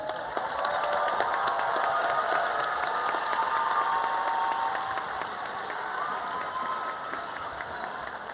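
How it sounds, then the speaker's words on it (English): Steady applause from a crowd at a medical school white coat ceremony, a dense wash of clapping that holds evenly throughout and tapers slightly toward the end. "we can give the A's a round of applause"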